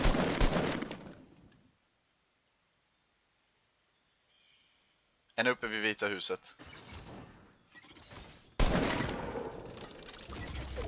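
Fortnite Battle Royale gunfire comes in loud, rapid bursts midway and again near the end, with players talking over parts of the action and stretches of near silence between.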